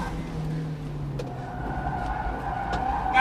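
A turbocharged 1.6-litre Mazda Miata drives off boost, its engine a steady, moderate drone with a faint tire squeal and a rising rev at the end, heard without talk.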